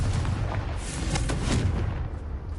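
A Bombarda explosion spell from the game Hogwarts Legacy lands with a deep, rumbling boom followed by a couple of sharp crackling bursts, loud and close, with no voices over it.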